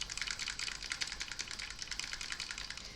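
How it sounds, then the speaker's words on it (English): Rapid, dense clicking of keys on a new mechanical keyboard, a quick continuous typing patter at close range, fairly quiet and without speech. "I got this mechanical keyboard as a gift."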